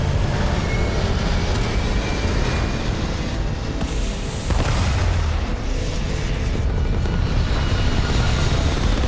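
A spaceship lifts off in the video game Starfield with a dense, loud, continuous engine roar and rumble that swells and holds steady for several seconds.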